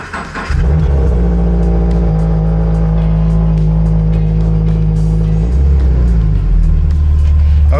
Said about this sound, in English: theoretically now, should be able to start the car